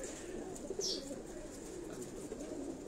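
Pigeons in a breeder cage on a rooftop give soft, low cooing over a constant murmur of background noise, with a brief faint chirp near the start.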